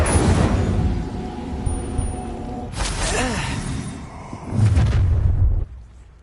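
An Incendio fire spell cast in Hogwarts Legacy erupts with a loud whooshing burst, followed by a swelling roar and a second blast near the end, heard under a voice speaking.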